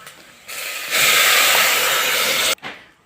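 Water is poured into frying rice for Egyptian sayadeya, setting off a loud, rushing hiss of steam that swells, holds for about two seconds, then cuts off abruptly with a short after-sizzle.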